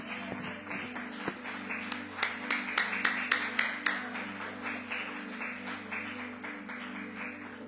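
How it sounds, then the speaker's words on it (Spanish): A church congregation claps during a service, a steady run of distant rhythmic hand claps over low music and room hum, fairly faint throughout. "démosle palmas al Señor."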